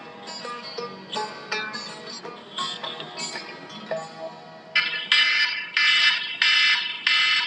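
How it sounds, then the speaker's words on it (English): A repeating electronic alarm rings alone with a chirping, beeping pattern, growing louder and harsher in steady bursts toward the end. "when that alarm goes off at 4:30 in the morning"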